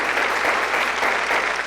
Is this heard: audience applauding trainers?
yes